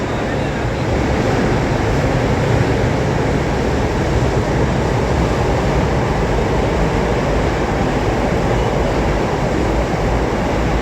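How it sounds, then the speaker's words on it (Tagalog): An LRT light rail train roars past nearby, a loud, steady rushing rumble that continues unbroken from start to finish. "pinadaan ko lang yung LRT, maingay masyado"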